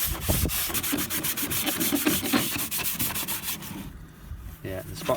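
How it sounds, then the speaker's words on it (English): Fluid is rubbed by hand into a Traxxas Slash RC car body, giving a close, rhythmic scrubbing and squeaking of strokes across the plastic shell for several seconds, pausing briefly near the end. "Rub it in so it looks wet and stays wet."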